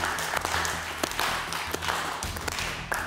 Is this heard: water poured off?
no